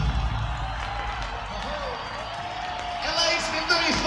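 Crowd at a concert cheering and applauding, a continuous wash of clapping and shouts, steady and somewhat distant, swelling slightly toward the end.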